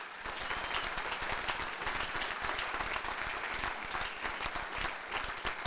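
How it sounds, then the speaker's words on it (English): An audience at a university State of the University address applauds a Division 1 dance team, a dense, steady burst of clapping from a large crowd throughout, with no speech. "So, round of applause."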